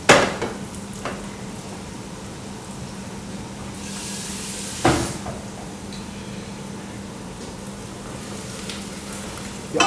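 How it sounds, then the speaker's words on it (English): Onions and carrots fry and caramelise in a pan for tonkatsu curry, giving a continuous close sizzle broken by a few sharp stirring clanks. "your onions and your carrots should now be starting to caramelise"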